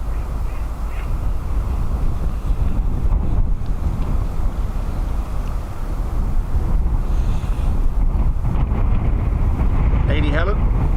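Strong wind at Dublin Airport buffets the microphone in a constant loud rumbling roar across the whole stretch, with faint distant tones briefly poking through near the end.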